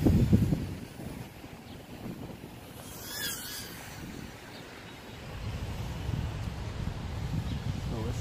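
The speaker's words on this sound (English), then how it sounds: "It's a little windy out here." Wind buffets an outdoor microphone in a steady low rumble through most of the stretch, strongest at the start and end, with a brief higher whoosh midway and no clear voices.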